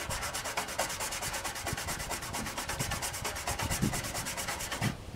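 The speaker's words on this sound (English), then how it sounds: "It just needs a lot more scrubbing." A brush scrubbing hard against the plastic case of a 1991 Packard Bell Legend 386X computer outdoors, a steady rapid back-and-forth rasping close up, continuous for several seconds.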